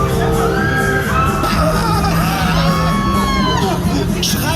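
Riders on a Black Out fairground ride at the Schweinfurt Volksfest scream and whoop with joy, loud overlapping shrieks and yells above the ride's din and crowd babble.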